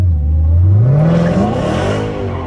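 A Dodge Hellcat's engine revs hard as the car spins out, a loud, close, rising engine roar with whirring under it and no talking.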